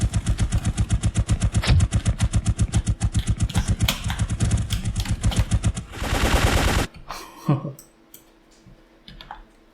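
Rapid, loud automatic gunfire from a helicopter in an Unreal Engine 5 video game, a dense rattling burst of shots lasting several seconds before cutting off, followed by a few scattered clanks and quieter game noises.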